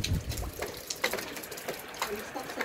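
Water splashes and trickles into a container in uneven bursts, fairly quiet and close, with faint voices murmuring in the background.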